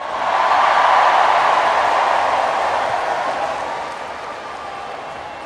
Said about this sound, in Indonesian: Tepuk tangan untuk Menteri Keuangan yang paling keras.